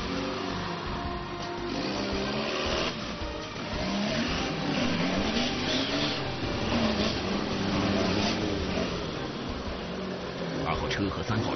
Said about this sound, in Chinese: 二号车和三号车几乎同时冲入泥塘，猛烈的发动机与水相遇，冒出阵阵白烟。